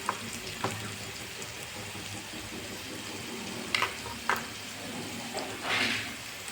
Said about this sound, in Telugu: అల్లం పేస్ట్ ఆయిల్లో ఫ్రై అవ్వాలి.